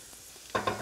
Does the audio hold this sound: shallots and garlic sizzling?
yes